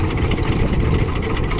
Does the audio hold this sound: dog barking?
no